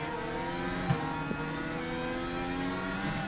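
A race car engine hums steadily in the iRacing simulator with an F3-style car, a constant harmonic drone with slight pitch shifts and a couple of faint clicks, and no voices.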